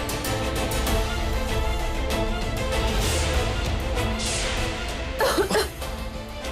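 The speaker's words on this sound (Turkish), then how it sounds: "çok öksürüyor" Someone coughs repeatedly amid dense, steady background noise, with one sharper burst of coughing standing out near the end.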